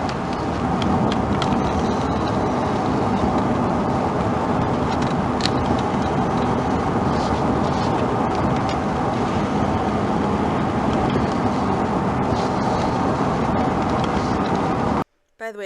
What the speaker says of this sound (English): I believe that noise is a train or something that's going by while they're sitting in a car doing this